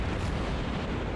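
Naval cannons firing in a war video game, a dense, loud burst of booming, rumbling blasts that fills the whole moment without any talking.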